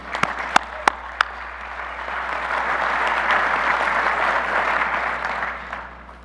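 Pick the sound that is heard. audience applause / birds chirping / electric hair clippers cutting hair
audience applause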